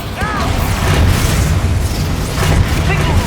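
A deep, booming Expulso spell explosion in Hogwarts Legacy rumbles with heavy low impact and a longer roar, while game voices speak over and around it.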